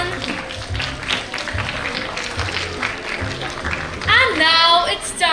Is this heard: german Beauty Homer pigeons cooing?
no